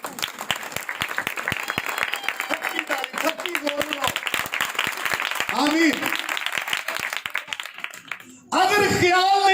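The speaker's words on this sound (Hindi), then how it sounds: "ताली लगा बहन के लिए" A church congregation at a Hindi/Urdu sermon breaks into loud, sustained applause near the end, following a stretch of preaching speech over scattered claps and crowd noise.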